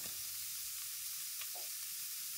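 Chopped tomatoes frying in a little oil in a kadai, giving a steady, quiet sizzle throughout with faint stirring scrapes and no voices.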